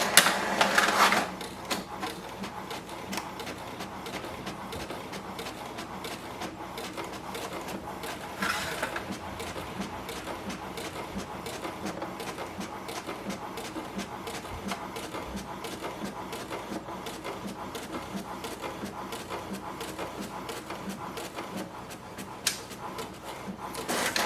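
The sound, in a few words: HP DeskJet 2955 printer printing a page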